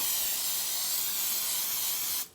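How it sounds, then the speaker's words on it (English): A steady, loud spray hiss from a nearly empty aerosol can of vegetable oil, running continuously for a couple of seconds before cutting off abruptly. "I'm going to take some vegetable oil. And it said spray it."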